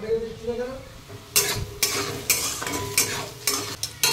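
Potatoes frying in a pan with soybean oil are stirred with a utensil, giving repeated scraping clatters over a steady sizzle, close and fairly loud, with brief pot-and-spoon knocks.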